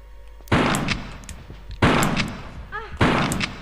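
Three loud shotgun blasts from the video game Tomb Raider III, each a sharp crack followed by a decaying rumble, spaced roughly a second apart, with a brief metallic chime between the last two.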